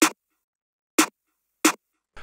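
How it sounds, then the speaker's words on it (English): A programmed snare sample in FL Studio strikes three times, each crisp hit short and punchy with a bright top, separated by silence before a voice begins. "And this is what the snare sounds like."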